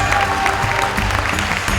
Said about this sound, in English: I think he deserves a much rounder round of applause.